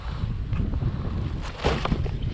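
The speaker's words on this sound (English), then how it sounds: "Man, when it decided to blow, it's blowing." Steady wind buffets the microphone out on a lake during kayak catfish jug fishing, a continuous low rushing roar with a stronger gust near the end and no talking.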